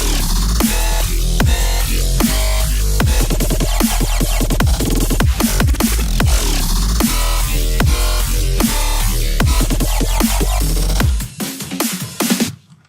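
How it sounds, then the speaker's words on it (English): Plucked synth bass variation built in Serum, a dense loud electronic pattern of punchy repeated notes over a sustained low end, cutting off near the end into a brief fading tail. "now the second part with the plucking bass variation sounds like this"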